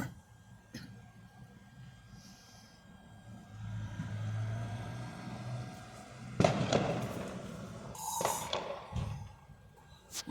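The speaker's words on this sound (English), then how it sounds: "Let's see more fireworks." Fireworks on Bonfire Night, a few sharp distant bangs and crackling bursts outdoors, spaced irregularly against a low rumbling background with traffic-like hum.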